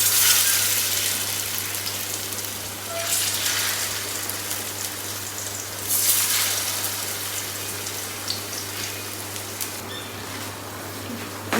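Besan kandliya frying in a pan of hot oil, giving a steady, close sizzle with light crackling and patter throughout and brief surges of bubbling, with no one talking.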